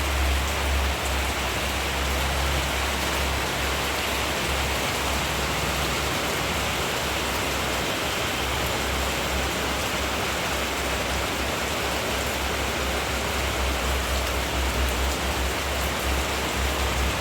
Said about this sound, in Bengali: দেখো কত জোরে জোরে বৃষ্টি হচ্ছে